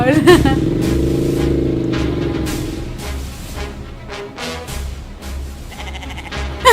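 A goat lets out a long, wavering bleat up close, followed by excited talking and laughter over a background engine hum.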